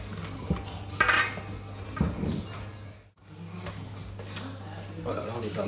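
Chocolate batter being mixed in a bowl, with scraping and clinking of a utensil against the bowl in irregular bursts, a steady low hum underneath and a brief quiet gap midway.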